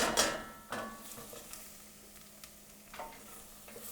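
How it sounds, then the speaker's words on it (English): Farro grains toast in olive oil and butter in a pan, a faint sizzle with a clattering pour at the start followed by sporadic scrapes and taps of a spoon stirring the grains. "So we're going to put the farro in now and let it cook a little bit in the oil"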